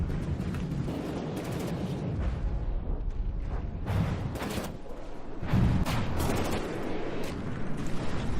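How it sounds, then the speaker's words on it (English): The Liberator weapon fires in From the Depths amid a battle, a series of distant rumbling booms and cracks scattered over a constant low roar of combat. "This thing's Liberator is repaired back up and is firing once more."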